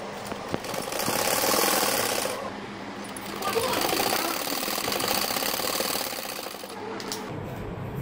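A sewing machine stitches along the side of a double bed sheet in two long, steady rattling runs with a brief pause between them, close and fairly loud.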